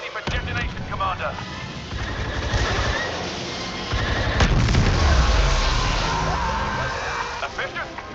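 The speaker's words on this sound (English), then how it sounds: "Ion cannon ready for detonation, Commander." An ion cannon detonates in the Star Wars Battlefront 2 video game, with heavy booms and rolling blasts building through the middle and end over layered battle noise and voices.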